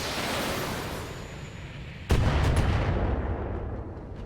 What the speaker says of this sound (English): We can always hit them with long-range rockets anyway.